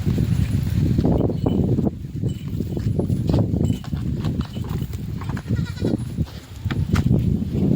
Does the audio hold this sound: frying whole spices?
no